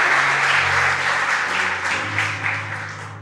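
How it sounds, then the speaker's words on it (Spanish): A church congregation applauds during a sermon, a dense, continuous wash of clapping that gently fades toward the end, with a low steady hum underneath. "Dele un aplauso a ese Dios."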